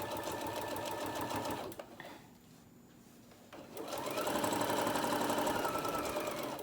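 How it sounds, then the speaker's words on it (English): A sewing machine stitches a tote bag in two steady, loud motor runs, pausing briefly in the middle before resuming at a slightly stronger pace. "I'm trying to sew this as straight as I can"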